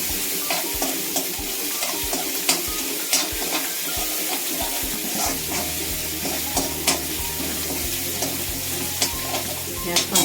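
Green chillies roasting in a pan for Maharashtrian eggplant bharta, a steady close sizzle with intermittent stirring scrapes and clinks, with a low hum joining partway through.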